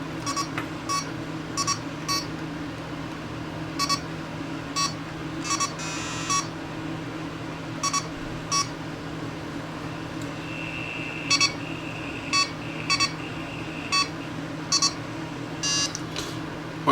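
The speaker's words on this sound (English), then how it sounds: "if I hold it up to my watch, we should hear the watch buzzing, the LCD." Electronic buzz from a wristwatch's LCD backlight picked up through a Greenlee 200FP filter probe, a steady hum with repeated short beeping bursts and a brief high tone near the end, no talking.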